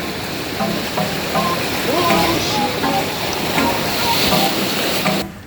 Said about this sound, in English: There's waves coming, so.